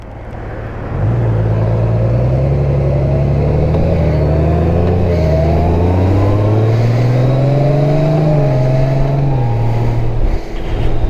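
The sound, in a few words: Honda Goldwing 2024 motorcycle accelerating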